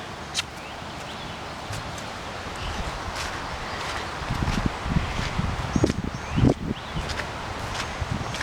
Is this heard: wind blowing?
yes